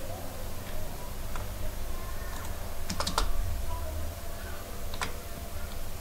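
Typing on a computer keyboard during an English typing practice session, scattered key clicks with a few sharper taps against steady background hiss, close and moderately loud.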